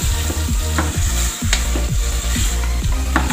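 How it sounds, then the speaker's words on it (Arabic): Meat fries with onion and olive oil in a pan, a dense, loud sizzle alongside a low rumbling hum and rhythmic stirring clinks, close up and without speech. "درنا الزيت البلديه والبصله واللحم"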